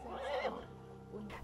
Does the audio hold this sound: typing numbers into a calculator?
no